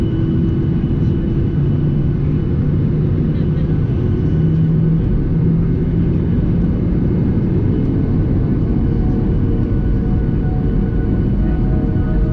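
Steady broadband roar inside a Ryanair airplane cabin in flight, a constant low-heavy engine and air rush that holds level throughout with no pauses.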